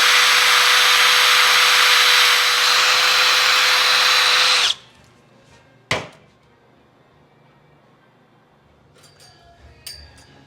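A power drill bores a cable hole through a part on a Model A roadster, a loud steady whine running for nearly five seconds before stopping abruptly, followed by a sharp clack and a few faint clinks in a quiet room.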